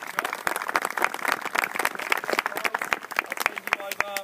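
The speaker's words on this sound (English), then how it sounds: "Give them a little round of applause" Scattered claps from a small group of boys at a football coaching workshop, sharp and uneven, with chatter and movement mixed in throughout.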